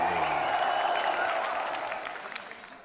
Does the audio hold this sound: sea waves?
no